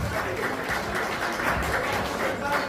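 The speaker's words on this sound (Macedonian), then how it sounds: "да го поздравиме со еден голем аплауз" Audience applause for a karate veteran, first medalist from Cardiff, at a karate veterans' award event: dense, steady clapping from a crowd filling the room, with voices mixed in underneath.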